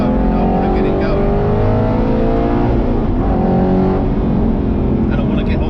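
An Aston Martin Vantage GT8 engine accelerates on the road, a loud, continuous rising drone with climbing harmonics close to the listener that stays dense for the whole stretch, with some talk mixed underneath.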